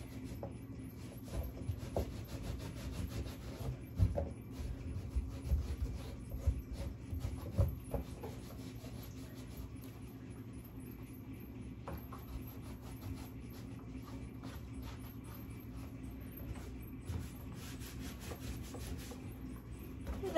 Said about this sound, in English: Anywhere that's interesting detail, just rub away to reveal whichever parts you want to reveal.